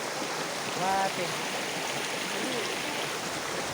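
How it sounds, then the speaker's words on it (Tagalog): Mountain creek flowing near Mandarin, a steady broadband rush of water throughout, with a brief voice speaking over it near the start. "Ito yung sapa dito sa Mandarin."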